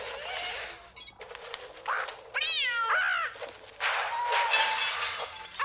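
A domestic cat lets out a sharp, wavering meow and then a shorter follow-up cry, close and clear over faint room noise and a few soft thumps.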